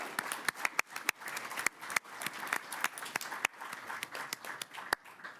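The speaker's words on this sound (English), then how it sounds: "Let's get a round of applause for our team here." An audience at a Reno city council meeting applauds the parks and recreation team, with a steady run of sharp, close hand claps that thin out toward the end.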